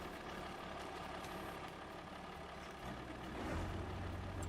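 A truck engine in Farming Simulator 25 idles with a steady low diesel rumble and faint whine during a silage harvest, swelling slightly near the end, continuous and at moderate level with no voices.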